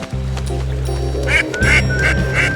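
Cartoon duck quacking in a camp nature adventure, a run of bright nasal quacks in several bursts over a steady low musical bed, loud and up front.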